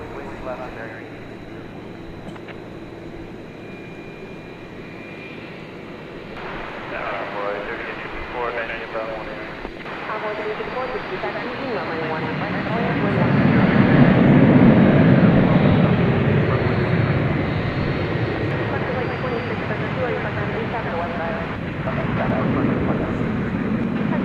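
Airliner at DFW airport at night, its engine roar building to a loud broad rumble midway and then easing off, with talk and radio chatter running throughout.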